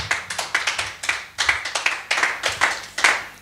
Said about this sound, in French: Est-ce qu'on peut acclamer encore la parole du Seigneur?